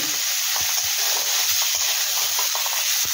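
Food fries in a pan for a dhaba-style shahi malai matar methi dish, with a loud, constant sizzle. A spoon stirs through it in repeated soft knocks and scrapes, close up, and there is no talking.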